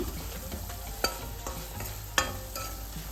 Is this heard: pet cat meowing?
no